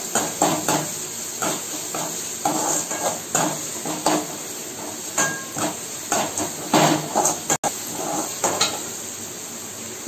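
Onions being sautéed and stirred in a pan for vegetable Maggi noodles, with steady sizzling hiss and repeated scraping clinks of a utensil against the pan throughout, close and fairly loud.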